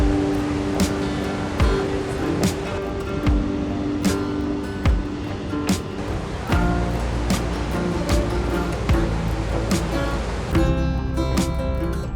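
Ocean waves break on the coast near Melbourne, Australia, as a steady surf wash mixed with a continuous hum and occasional soft thumps. It goes on for about twelve seconds with no talk.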